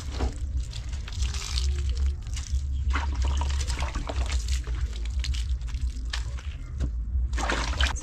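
Water splashing and trickling outdoors as slippers are rinsed, a steady run of pouring and sloshing with irregular splashes throughout, fairly close and continuous, no talking.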